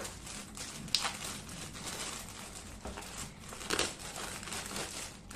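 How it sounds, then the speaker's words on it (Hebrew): A Shein mail package is opened with scissors, and its plastic wrapping crinkles and rustles continuously and closely, with a few sharper crackles. "אני אקח מספריים ואני אפתח איתם את החבילה"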